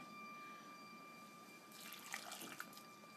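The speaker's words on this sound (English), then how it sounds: "to this I am going to add a half a cup of water" Water poured into a pot over apple chunks, a short close splashing pour in the back half with a faint steady hum before it and no voices.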